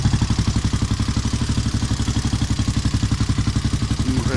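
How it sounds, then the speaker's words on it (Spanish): Suzuki DR 650 single-cylinder motorcycle engine idling steadily at around 1500 RPM after repair work, with an even, rapid thumping pulse heard close up and alone. "volvemos a tener tu moto en marcha."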